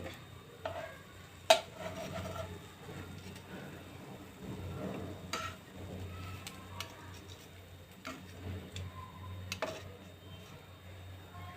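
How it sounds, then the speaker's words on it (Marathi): Bread slices roasting in a pan for shahi tukda, a faint dry crackle with soft scrapes and occasional sharp clicks of a spatula turning them, no voices. "असे सर्व ब्रेड आपण तर हे परतून घ्यायचे।"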